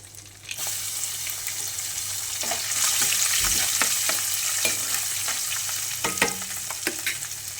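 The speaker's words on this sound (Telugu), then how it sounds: "ఈ తాలింపుని బాగా ఇలా కలుపుకొని స్టవ్ కట్టేద్దామండి" Garlic cloves and dried red chillies sizzle steadily in hot oil in a pan as a tempering, with a loud continuous crackle and close scraping stirs throughout, and no voices.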